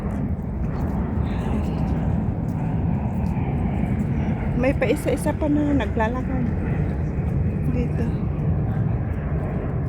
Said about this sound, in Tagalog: Ayun ang eroplano.